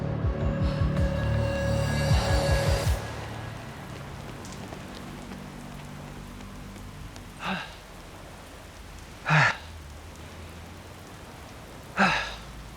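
Steady rain pours down outdoors, a broad continuous wash at first that thins to a softer hiss, with a few sharp isolated thumps and knocks breaking through near the end.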